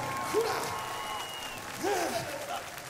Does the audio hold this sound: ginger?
no